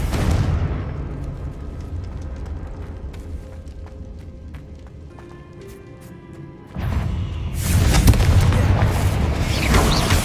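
Confringo fire spell blasts in the Hogwarts Legacy video game, a loud rumbling burst that erupts abruptly late on and then roars on in a sustained, noisy wash after a quieter stretch of low game ambience.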